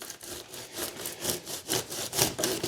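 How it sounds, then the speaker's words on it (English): A hand saw trimming the bottom of a boxwood bonsai root ball, about a dozen rhythmic rasping strokes, close and moderately loud, with no talk. "And I don't see a problem with just trimming off the bottom like this."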